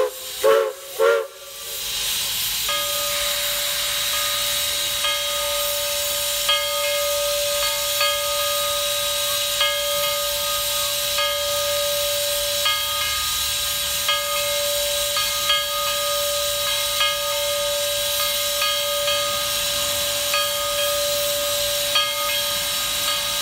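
Steam locomotive Skookum on the Oregon Coast Scenic Railroad vents a broad, continuous steam hiss while a steady whistle blows for about fifteen seconds, both loud and near, after a few brief thumps at the start.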